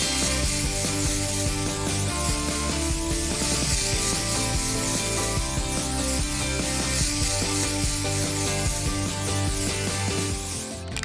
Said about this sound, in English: Be careful with spray paint.